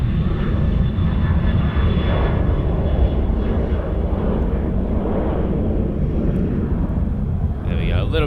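A jet airliner departs Sydney Airport with a loud, sustained engine roar that dominates the whole stretch. A person speaks now and then beneath it.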